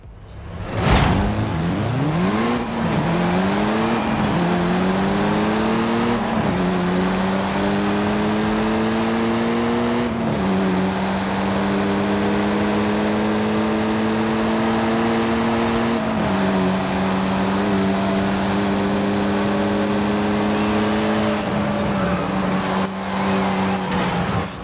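A race car engine in Forza Horizon 5 revs hard and climbs through a series of upshifts, its pitch dropping at each gear change, loud, close and continuous with no talk.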